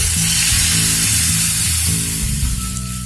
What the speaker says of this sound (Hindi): फ्लेम ऑफ कर देते हैं और ये तड़का ऐड करते हैं।